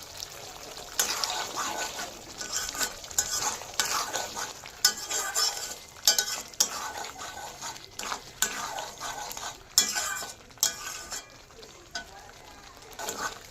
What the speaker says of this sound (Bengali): এবার আমি মটরশুঁটিটা এর মধ্যে দিই